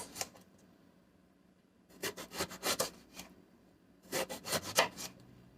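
Knife slicing eggplant into half-inch rounds on a cutting board, two short bursts of several quick crunchy cuts separated by quiet pauses, close and fairly soft with no speech.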